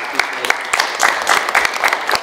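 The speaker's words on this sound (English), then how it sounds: "So again, give you guys some round of applause for coming." Audience applause at a college gathering, a short burst of scattered hand claps from a modest crowd, fairly close and lively.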